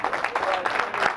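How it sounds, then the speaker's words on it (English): An audience at a podcast launch premiere in a cinema gives a short burst of applause, a brief, dense patter of clapping hands with some crowd murmur mixed in. "everybody please give a round of applause to Walshy Fire sitting back there."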